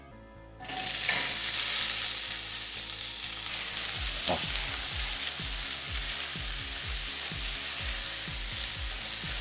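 Bell peppers hitting hot olive oil in a pan for a vegan chorizo, a sudden loud sizzle that settles into steady frying crackle with occasional utensil scrapes and pops, no talking.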